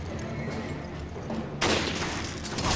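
A sniper rifle in Resident Evil Revelations fires partway through with a sudden loud crack. A harsh, noisy blast follows and sustains over the quieter game ambience.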